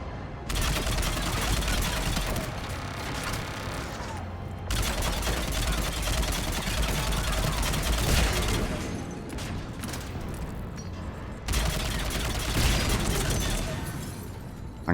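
Weapons fire in the Mass Effect 3 battle for Omega, rapid gunshots and bursts running nearly nonstop in dense, loud volleys with brief pauses between them.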